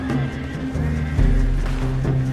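Panicked horses in Red Dead Redemption 2 give a few strained whinnies over a low, droning game ambience, moderately loud with a heavy thump midway.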